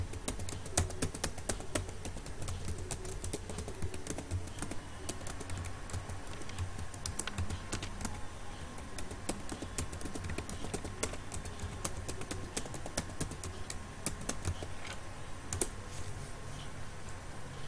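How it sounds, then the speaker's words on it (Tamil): Someone types the alphabet from A to Z on a computer keyboard, producing a steady, rapid stream of close-up key clicks that runs unbroken throughout with no talking. "நம்மளோட last exercise A to Z type பண்ணிட்டு அதை அப்படியே ரிவர்ஸ்ல டைப் பண்ணணும்"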